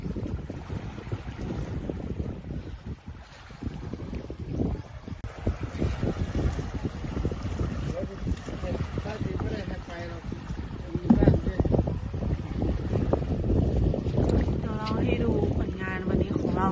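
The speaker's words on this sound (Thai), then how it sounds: "วันนี้มีลมนะคะ" Gusty wind on a reservoir lake during a fishing trip, buffeting the microphone as a steady low rumble with louder surges, water lapping faintly beneath and no voices heard.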